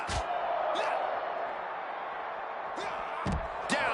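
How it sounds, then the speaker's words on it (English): A wrestler is slammed with a suplex in the WWE 2K26 video game, one sharp impact near the end over a steady arena crowd roar, with play-by-play commentary talking throughout. "Down with a suplex."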